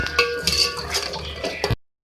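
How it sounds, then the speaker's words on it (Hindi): A spoon scrapes and clinks in a pan while masala for a beef and potato fry is stir-fried, a close, busy clatter that stops abruptly. "इसको मैं भून लूँगी।"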